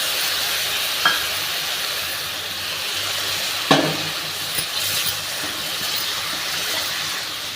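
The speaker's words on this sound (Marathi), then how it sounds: "असं चांगलं परतून घ्यायचं।" Green chilies sauté in a hot pan for a yogurt green-chili dish, giving a steady, close hiss of sizzling with a couple of light clinks from stirring.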